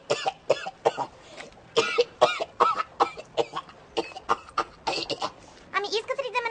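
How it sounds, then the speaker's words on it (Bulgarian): A woman gives a deliberate, delicate cough to draw someone's attention: a run of short, close throaty bursts in an uneven rhythm, mixed with voiced sounds and talk. "Сега ще му привлеча вниманието с една деликатна кашлица."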